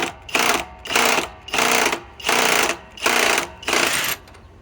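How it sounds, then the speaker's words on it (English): A Master Force Boost hydraulic impact driver from Menards, rated at 55 foot-pounds, runs in five even bursts of loud, close-up rattling hammering with short gaps between them. "Master Force Boost from MENARDS hydraulic impact driver"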